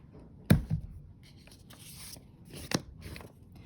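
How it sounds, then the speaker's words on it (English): A pencil sketches a parabola on paper, soft scratchy strokes close by, with two sharper taps as it is set down or lifted between the lines. "And then I'm going to sketch in my parabola."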